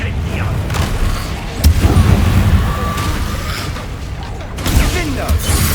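A fire spell cast in Hogwarts Legacy bursts out as a loud whooshing boom, then crackling game effects and a second heavy burst near the end, with voices in the background.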